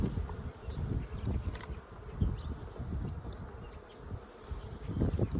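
Dense, steady buzzing of many honeybees up close, a low droning hum that swells and fades slightly with no voices.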